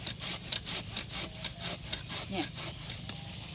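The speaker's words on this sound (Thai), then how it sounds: "เลื่อยกิ่งไผ่เนี่ยได้ประมาณหนึ่งพันกิ่งนะทุกคน" A hand saw cuts through bamboo branches in quick, rhythmic back-and-forth strokes, close up but fairly quiet, with a dry woody rasp on each pass.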